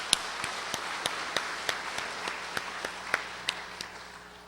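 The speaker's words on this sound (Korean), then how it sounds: "우리 그 꿈을 잘 키워갈 수 있도록 격려의 박수 주도록 하겠습니다" A congregation at a Sunday service claps in encouragement, about a dozen evenly spaced claps in a steady rhythm, sounding sparse and somewhat distant in a reverberant hall.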